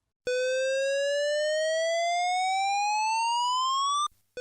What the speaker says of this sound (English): This is the evacuation signal.